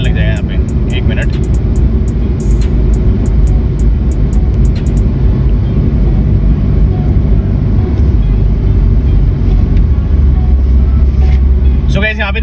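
A Maruti Suzuki Swift base model drives slowly, and inside the cabin a loud, steady low engine and road rumble fills the whole stretch, with faint clicks near the start.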